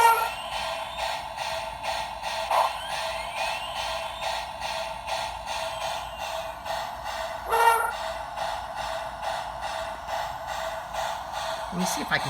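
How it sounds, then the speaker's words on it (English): A model train locomotive with gold-walled wheels, blue hubcaps and silver pinstripes runs with a steady, close motor whir and hum, plus a couple of brief squeaks or clicks. "Very nice running locomotive."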